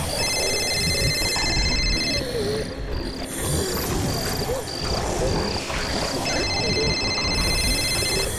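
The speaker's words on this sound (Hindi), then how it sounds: "जीत के फोन की आवाज" A telephone rings in repeated electronic bursts, sounding several times over a dense, eerie backdrop of animal-like growls and insect chirring.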